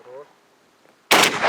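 A shotgun blast fired by a soldier during weapons training near the front line, one sharp loud report cutting in after a brief voice and quiet, its roar and echo sustaining to the end.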